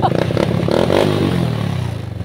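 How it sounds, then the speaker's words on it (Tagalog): A motorcycle engine that had locked up and refused to kick start fires after one kick and idles loudly up close with a rapid, pulsing, chugging beat and some mechanical clatter. "Yung motor na hila-hila, ngayon isang sipa lang."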